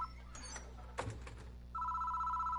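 A telephone rings at a phone booth in the Death Mark video game. A steady electronic ring starts partway through and continues, fairly faint, after a brief clatter, with no one speaking.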